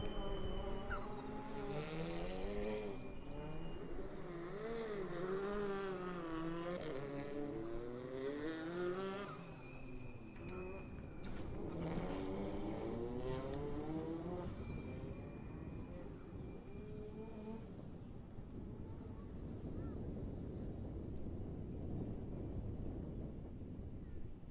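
TCR Eastern Europe touring race cars roar away from the grid at the Salzburgring, their engines rising and falling in overlapping revving sweeps that blend into a loud, continuous wash of engine noise and rushing wind.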